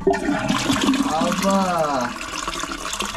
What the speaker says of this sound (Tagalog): I-flush mo. Ayan o, flush.